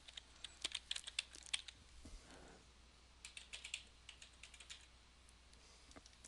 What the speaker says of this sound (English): simply type in your social media email address that you have received